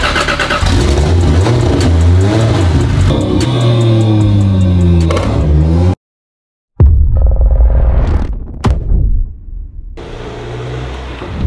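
First start of a 1000 hp single-turbo engine in a Supra MK4: loud cranking and rough revving up close, a brief cutout, then the engine catching again with sharp throttle blips before settling to a lower rumble.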